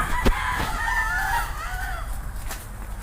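A rooster crows once, loud and close, its long rising-and-falling call ringing out over a steady background hum.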